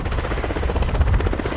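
A Ka-52 coaxial-rotor helicopter's rotors thump in a fast, steady beat over a deep engine rumble, loud and close, with no other sounds.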